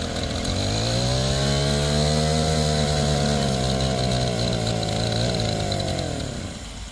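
A 4-stroke engine brush cutter runs after starting, a loud steady buzzing drone held for several seconds before the pitch sags slightly at the end, close and continuous without speech.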